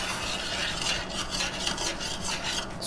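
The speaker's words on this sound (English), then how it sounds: "Scrape all that froth off the bottom of the pan." A utensil scrapes the bottom of a pan of simmering white wine as it reduces for bucatini all'Amatriciana, giving a continuous close, rough rasping scrape over the steady hiss of bubbling liquid.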